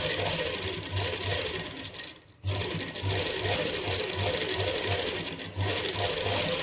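A home sewing machine stitches a seam on a knitted winter cap with a steady, close whirring and needle chatter. It stops briefly once and then runs on, with no talking.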